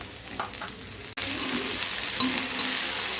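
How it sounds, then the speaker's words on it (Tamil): Shredded cabbage hits a hot pan for vegetable fried rice, bursting into a loud, steady sizzle that continues unbroken after a sharp start, with no voices. "இப்போ வந்து கோஸ் போட்டு நல்லா வதக்கிக்கலாம்."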